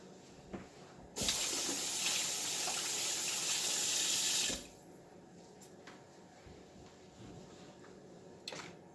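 Tap water runs while raw chicken is washed under it, a loud steady gush lasting about three seconds that then shuts off, leaving quiet kitchen handling noises.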